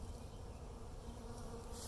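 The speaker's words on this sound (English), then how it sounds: "you can see where the bees are congregating" Honey bees in a Flow Hive make a steady, dense buzzing drone, close and continuous, with no voices.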